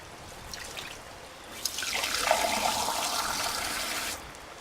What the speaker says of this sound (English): I didn't want to pour contaminated water.